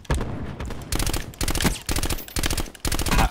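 Rapid automatic gunfire in Call of Duty Black Ops 4 Blackout, loud and close, coming in several short bursts of quick shots separated by brief pauses, with no talking over it.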